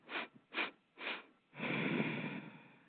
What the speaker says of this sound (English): It's just 3 quick sniffs in through your nose and then a long exhale through your nose